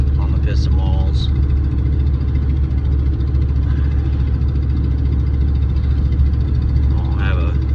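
Rebuilt engine of an OBS pickup truck drones steadily from inside the cab while driving, with someone talking over it in short bursts.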